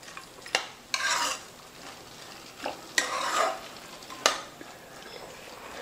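Tomatoes frying in oil for a curry, a low sizzle broken by several loud spoon-stirring scrapes and clanks against the pan, spaced a second or two apart, close up and with no voices.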